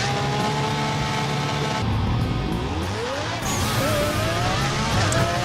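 Car wheelspin in the racing video game Burnout Paradise: a loud revving engine under sustained tire squeal, with the pitch sweeping up and down as the wheels slip and grip.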